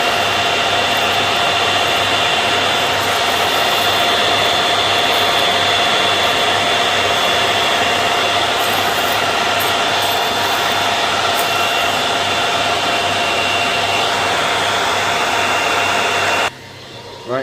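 Four cooling fans on an Artisan M10 Sniper Pro coffee roaster whir as a loud, steady, continuous drone with a faint tonal hum, running unbroken until the sound drops sharply near the end.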